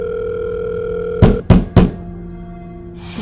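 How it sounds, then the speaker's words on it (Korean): A telephone line tone hums steadily while a call is placed, broken by three heavy knocking thuds in quick succession, then the tone carries on faintly before a brief hiss. "그리고 다시 전화를 걸었는데"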